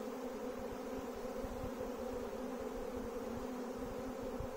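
A swarm of bees being caught outdoors as rain threatens produces a continuous, even drone. The hum is fairly quiet and steady for the whole few seconds, with no voices.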